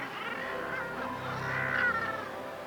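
Seabirds at a crowded clifftop colony on the Bempton Cliffs and Flamborough coast squabble with harsh, honking calls that rise and overlap, close and moderately loud, swelling toward a peak before easing off.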